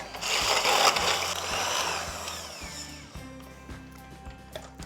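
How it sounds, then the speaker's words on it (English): An electric mixer whisks cream for a Victoria sandwich, a close, loud whirring buzz that fades after a couple of seconds, followed by quieter clicks and low mechanical hum. "Get your cream, get your mixer, whisk the cream."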